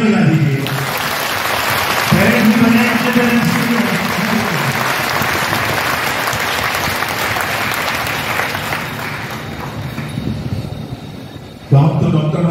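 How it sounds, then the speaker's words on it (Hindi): A large orientation-program audience of parents and students claps loudly and continuously for about ten seconds, a dense roar of applause that ends abruptly. "जोरदार तालियां बजा दीजिए"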